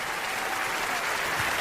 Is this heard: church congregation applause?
yes